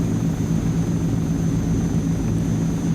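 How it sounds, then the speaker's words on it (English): Transall C160 turboprop engines run up to takeoff power in a flight simulator game, a loud, steady droning roar with a low throbbing hum that holds unbroken for the whole stretch, with no voices. "Get those power levers into the takeoff position"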